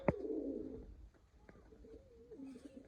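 A pair of Mirab pigeons coo softly nearby, with a low throaty coo at the start and fainter murmuring coos afterward against quiet background noise.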